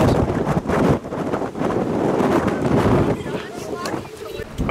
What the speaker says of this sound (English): It's like 60 degrees and windy